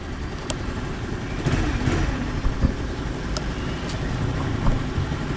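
A Motorstar Easyride 150CL 2024 motorcycle engine idles nearby with a low, steady rumble and faint irregular ticks, moderately quiet and with no speech over it.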